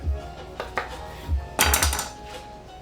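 Knife slicing through a lemon on a cutting board in a home kitchen, a few short crisp cuts and knocks of the blade against the board, close and fairly quiet, with no talking.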